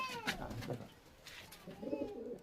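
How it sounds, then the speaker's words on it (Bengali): Pigeons in a loft, including Andhra high-flyers and red birds, cooing in soft low bursts close by, with a faint higher call near the start. "এই যে আন্ধ্রা আছে, এই যে লাল পায়রাও আছে"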